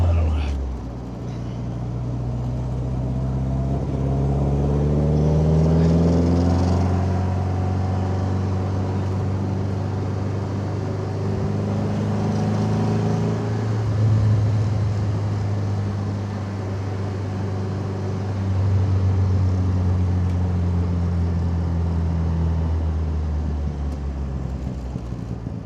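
A 1962 Triumph TR3A roadster engine idles and revs with a low, throbbing drone that rises and falls in pitch, running roughly throughout, with voices occasionally heard over it.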